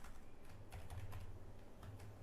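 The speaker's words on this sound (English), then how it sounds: "I have to type out Alpha lah." Rapid close clatter of typing on a computer keyboard, steady keystrokes over a low background hum, no voice heard.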